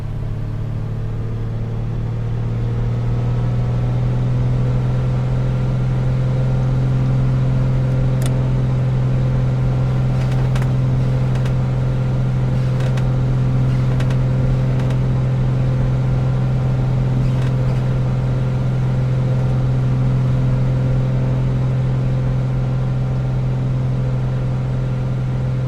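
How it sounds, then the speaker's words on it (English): Light aircraft engine in a flight simulator throttling up for takeoff, a steady loud drone that swells and holds as power comes in, with faint clicks over the top. "Mixtures rich, props full, and throttle is going. We are advancing the throttle."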